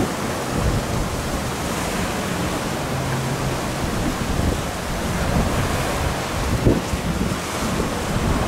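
Waves washing ashore on a beach at the Westin Maldives resort on Miriandhoo, a steady broadband surf wash with wind noise, continuous and fairly loud with no voices.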